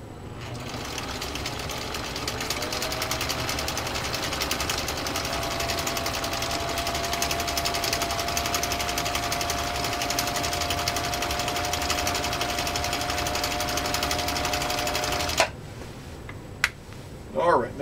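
A Husqvarna Viking Type 21 sewing machine runs steadily through three layers of genuine cowhide, a loud continuous mechanical whir with fast rapid stitching for about fifteen seconds before stopping abruptly, followed by a few faint clicks.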